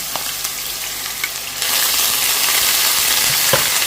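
Onions sizzle and crackle steadily in a hot pan, frying toward light golden, the sound growing louder and denser partway through, with occasional sharper pops.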